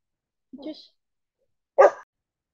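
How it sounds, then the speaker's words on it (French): A dog barks twice indoors, a short yip followed by a louder single bark about a second later, with silence in between. "j'ai dû arrêter mon chien qui commençait à aboyer"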